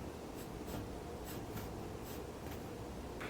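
Pencil scratching on paper while drawing a teenager's face, shaping the nose bridge down from the eyebrow; quiet, steady scribbling with short repeated stroke bursts.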